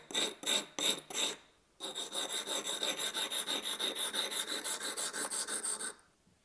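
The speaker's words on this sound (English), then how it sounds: "I used a file to more quickly begin profiling the cutting edge, then honed it in with a sharpening stone." Metal file rasping along the cutting edge of a small handmade integral knife: five separate strokes, then a steady run of about twenty quick back-and-forth strokes, close and clear with no talk.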